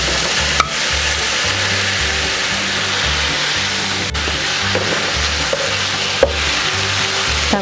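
Fried chicken stirred in a frying pan, with a loud, steady sizzle close up and a few sharp scrapes and clinks of the utensil against the pan.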